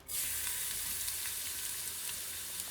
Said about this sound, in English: as soon as that ghee gets hot, you need to add the chili and the garlic in there